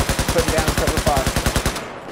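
Rapid automatic cover fire in Battlefield 4 on PS4 rattles in a steady, evenly spaced stream of loud close shots for about two seconds before cutting off.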